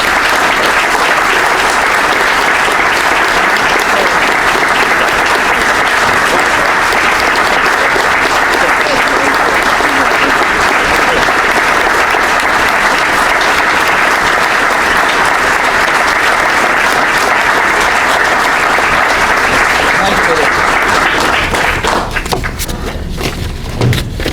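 Sustained, loud applause from a large audience at a university alumni reunion honoring honorary degree recipients, dense clapping continuing steadily before tapering off at the end.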